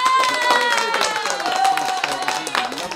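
Studio audience applause at a live psychic show, a dense burst of clapping from a crowd under a speaking voice.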